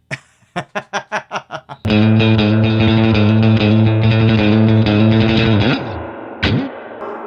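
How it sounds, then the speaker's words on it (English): An electric guitar plays through an all-tube Supro amp with a Supro spring reverb. Seven quick plucked notes lead into a loud sustained chord that rings out and slowly fades, followed by a brief final strum. "It's a Supro amp with a Supro spring reverb. It's all tube."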